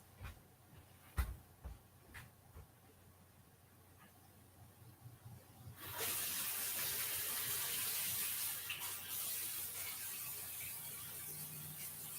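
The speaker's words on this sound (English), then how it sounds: "So let me wash my hands." Hands being washed under a running tap: a steady, moderately loud rush of faucet water begins partway through after a few quiet clicks and handling sounds, and it continues to the end.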